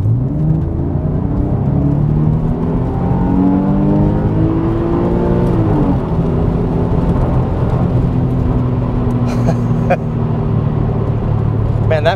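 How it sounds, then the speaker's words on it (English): A Porsche 911 Carrera S Cabriolet's naturally aspirated 3.8-liter flat-six revs up and down in sweeping rises, heard loud and steady from inside or near the car throughout. "Man, that flat six is awesome."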